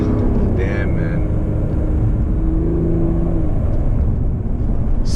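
Mercedes-Benz CLS450 engine droning steadily from inside the cabin while driving, a continuous low rumble with a brief rising whir, people talking faintly over it.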